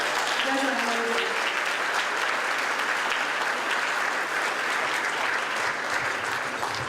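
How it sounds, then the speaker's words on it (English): Loud, sustained applause from a large crowd, dense clapping that continues without a break, with a brief voice near the start. "Dr. Jordan, Dr. Rakan, I'd like to give a big round of applause to all of you, please."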